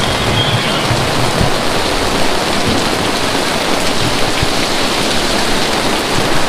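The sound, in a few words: heavy rain and hail on an awning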